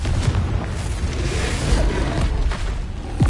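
A Confringo explosion spell from Hogwarts Legacy, a sustained, loud, booming blast with crackling, rumbling bursts spread across a few seconds and no talking.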